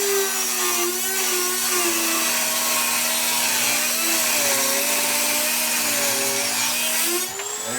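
A Dremel rotary tool with a cutoff disc cuts through bolts, a loud continuous high whine with a shifting pitch that holds for several seconds before easing off at the end.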